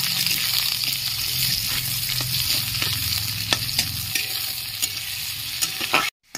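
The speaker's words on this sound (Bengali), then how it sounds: "লাল করে একটু ভেজে নেব পেঁয়াজটা" Chopped onions and four green chillies with garlic fry in a pan, a steady close sizzle with scattered pops and stirring scrapes, alone and continuous before a brief cut at the end.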